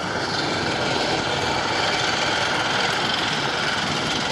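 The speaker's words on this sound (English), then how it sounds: "This one's got a radial, it's got an aeroplane engine." A WWII tank powered by an R975 radial aircraft engine runs at a tank display. It makes a steady, dense mechanical rumble and clatter, constant and fairly loud, with no speech over it.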